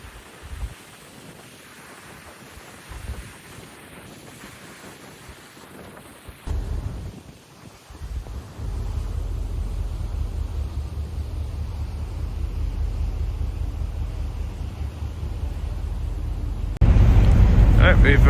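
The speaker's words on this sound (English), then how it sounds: "It is a bit windy, so if you can't hear me clearly, apologies" Strong wind buffets the outside viewing deck of a ferry crossing to Wellington, a loud steady low roar that builds and gusts harder near the end, with a voice speaking faintly underneath.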